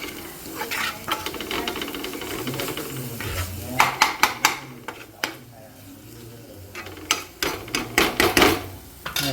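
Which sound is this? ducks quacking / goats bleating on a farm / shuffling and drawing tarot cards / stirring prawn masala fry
stirring prawn masala fry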